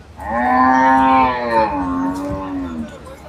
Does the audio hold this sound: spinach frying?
no